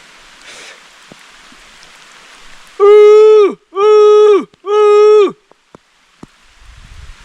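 Three loud, drawn-out moos from cattle in quick succession, close by, over faint rain-like hiss and a few soft knocks.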